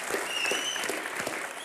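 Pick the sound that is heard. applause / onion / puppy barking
applause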